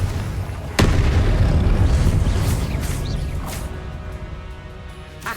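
The Confringo spell in Hogwarts Legacy bursts with one sharp, loud blast, followed by a long rumbling decay with scattered crackles.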